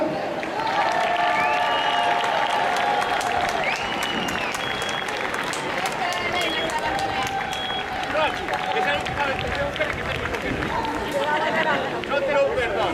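Group clapping during a class or training session, sustained applause mixed with chatter and cheering voices throughout.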